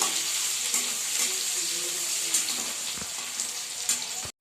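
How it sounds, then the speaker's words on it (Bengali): Chopped garlic fries in oil in a kadai, giving a close, steady sizzle with a few sharp stirring clicks and scrapes against the pan. "রসুন ভাজি"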